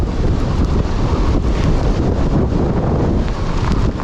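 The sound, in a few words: strong storm wind blowing against motorcyclist on Kawasaki Ninja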